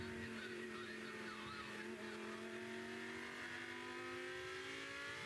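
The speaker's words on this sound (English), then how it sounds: "right now we have cars out on track for their formation lap" Race cars circle a track on a formation lap at a Thunder race, their engines droning steadily with rising and falling pitch as they pass, a continuous, moderately distant roar with no talking.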